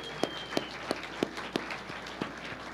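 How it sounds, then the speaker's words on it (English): Audience applause at a political campaign event in Topeka comes through as a faint, sparse series of evenly spaced claps. "Can we give them a round of applause, please?"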